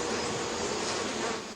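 Honeybees buzz steadily while gathering pollen among flowers, a dense, close, unbroken drone lasting the whole moment.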